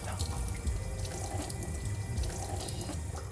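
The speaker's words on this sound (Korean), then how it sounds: "깨끗이 씻어주시면 됩니다." A fish is washed under a running kitchen tap, water splashing steadily and close into the sink with soft drips and handling sounds.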